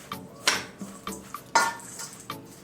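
A spoon mixing a mixture in a bowl strikes and scrapes in a loose rhythm of about seven distinct clinks and scrapes, close and clear, with no talking.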